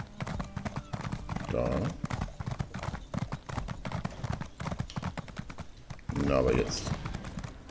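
Horse hooves clip-clop in the video game Elder Scrolls Online, with steady rhythmic hoofbeats and a couple of whinnies, played under someone talking in German.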